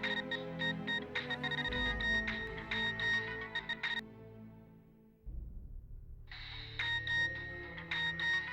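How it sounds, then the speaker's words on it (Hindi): Telephone ringing unanswered in a detective drama, a repeated electronic ring sounding in bursts with a pause between them, clear and alone with no voices. "फोन क्यों नहीं उठा रहे हैं?"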